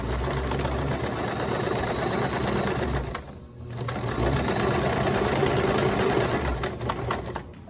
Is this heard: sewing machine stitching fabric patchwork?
yes